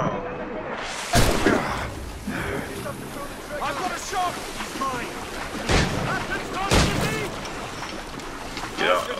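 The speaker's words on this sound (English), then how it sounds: "Things are firing the ship's weapons near that precious box." Ship's cannons firing during a naval fight in Assassin's Creed Rogue, a few sharp booms punching through wind, creaking timber and sea noise, with voices calling out between the shots.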